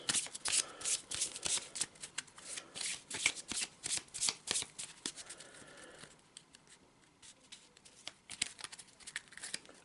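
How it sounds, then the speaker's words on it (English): A deck of cards is shuffled close up: several quick riffling bursts, then softer bridging and patting sounds as the cards settle. "let's give it a good shuffle."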